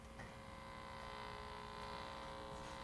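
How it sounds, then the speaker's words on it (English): Steady low electrical-style hum of a refrigerator motor running on the other side of a kitchen wall, constant and even throughout with faint tonal overtones. "So this is the back side of the refrigerator, which is right on the other side of this wall in the kitchen. And you can hear where the motor is."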